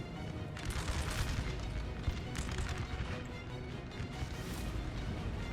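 Cannon and artillery fire rumble through a Napoleon Total War battle, with repeated heavy booms and crashes layered over a constant low battlefield roar, moderately distant and sustained.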